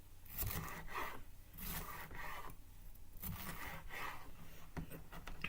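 A knife slices through food on a cutting board in a series of quiet, close scraping strokes, roughly evenly spaced, with no speech.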